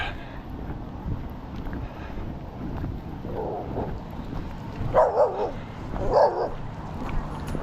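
A dog at a house barks a few sharp times from moderate distance, outdoors in wind, the barks clustered in the second half over a steady windy rumble.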